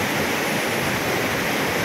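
Bolinao Falls 2 pours steadily. The falling water makes a dense, even roar that fills the scene without pause.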